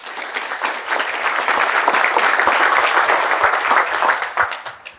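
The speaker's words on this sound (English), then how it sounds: "If you can give them a round of applause." A conference audience at a product management summit in Amsterdam breaks into sustained applause welcoming panel speakers to the stage, a full, even round of clapping that swells and then tapers off.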